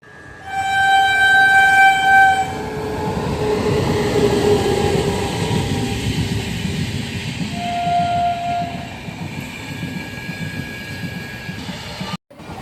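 A train at a railway platform sounds a loud whistle near the start, followed by a continuous heavy rumble of rolling cars and a shorter second whistle blast, heard up close.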